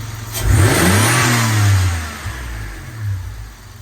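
A Dodge Stealth R/T engine with a cold air intake revs up hard and holds, drops back, then revs again more briefly. It is loud and close, with no talking.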